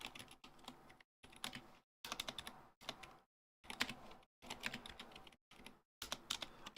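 Quick bursts of typing on a computer keyboard fitted with ABS keycaps, clattering keystrokes in short runs separated by brief silent pauses, close and fairly quiet.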